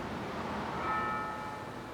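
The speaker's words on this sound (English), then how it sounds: "There's the bell." A church bell tolls for six o'clock, heard faint and distant as a soft ringing tone over steady outdoor background hiss beside an apartment shade garden.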